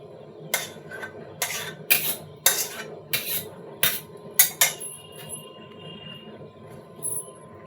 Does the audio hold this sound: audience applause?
no